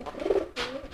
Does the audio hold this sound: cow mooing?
no